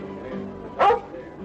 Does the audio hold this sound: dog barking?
yes